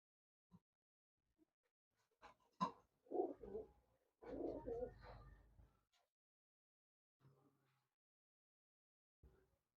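Short-beak pigeons kept for sale in Bangalore give several soft, low cooing calls in uneven bursts, close but quiet against near silence.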